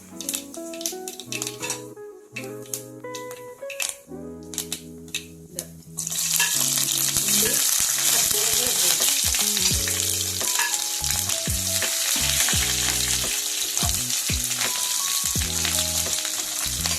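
Shallots sizzle in hot oil for a Kerala-style snakehead fish curry, first a few quieter pan clinks, then a loud, steady frying hiss that fills the pan with intermittent stirring scrapes.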